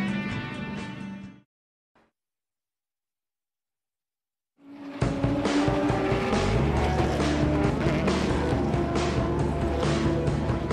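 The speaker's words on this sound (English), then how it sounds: "approximately 200 cars make for the goal line, waiting 24 hours ahead" Race cars at the 24 Hours of Nürburgring: an engine fades out into near silence, then a dense pack of cars roars up loudly and holds a sustained, layered engine drone until the end.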